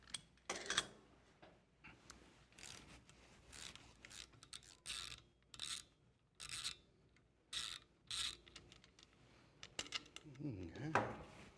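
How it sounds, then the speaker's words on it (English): Screws are loosened on the rear of a bracket on a Fillauer posterior mount prosthetic foot system, giving repeated short raspy ratcheting and scraping bursts of a hand tool at close range, with quiet gaps between turns. "we're going to loosen the 4 screws on the back of the bracket"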